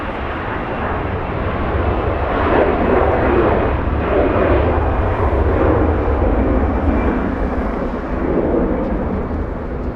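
An All Nippon Boeing 777 airliner at Los Angeles International Airport, a loud sustained jet engine roar that swells in the middle and holds steady, broad and rumbling, with no voices.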